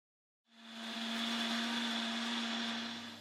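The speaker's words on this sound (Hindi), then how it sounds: "अब इसे अच्छे से ग्राइंड कर लें इनटू अ पेस्ट" An electric grinder whirs steadily as it blends a chicken kabab mixture with coriander into a paste for Peshawari-style chapli kababs, starting abruptly after a brief silence and holding a loud, constant motor drone with no talk.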